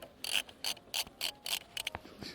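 A socket wrench ratchets on a 10mm bolt on a Honda Hunter Cub motorcycle, giving quiet, close bursts of rapid clicking in a stop-start rhythm, alone.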